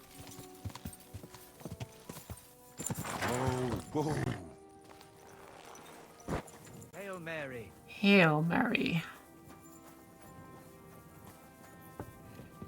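Rhythmic clip-clop of horse hooves from Kingdom Come: Deliverance 2, steady throughout, with people talking and exclaiming over it.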